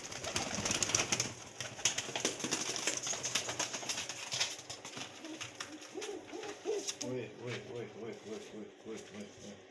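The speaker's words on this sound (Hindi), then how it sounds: "ये देखे मेरे बहुत कमाल के दो चार कबूतर हैं।" Pigeons coo in a soft, rhythmic, repeated murmur in the second half, following rustling and handling noises up close.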